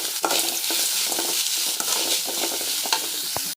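Small pieces of chopped green chilli fry in a pan for millet dosa. A steady sizzle runs throughout, broken by quick, close stirring scrapes and a few clinks of a spoon against the metal.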